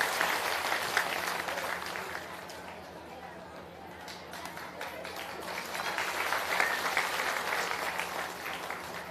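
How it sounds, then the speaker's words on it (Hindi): Crowd applause at an outdoor rural political gathering in Bihar, a dense steady wash of many hands clapping for about nine seconds, swelling slightly toward the end with faint crowd chatter mixed in. "एक बार जोरदार ताली बजाइए"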